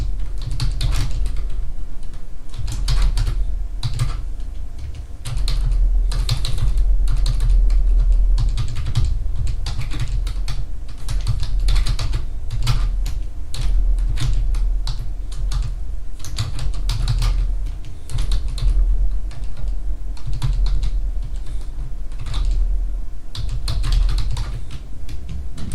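Steady typing on a computer keyboard, a dense run of close, crisp key clicks that continues nearly unbroken for the whole stretch, with no talking.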